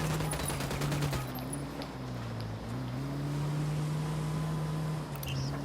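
Rapid bursts of gunfire crackle in the Ghost Recon Wildlands mission Operation Santa Blanca, layered over the steady droning hum of a vehicle engine as it drives through a town, with no talking.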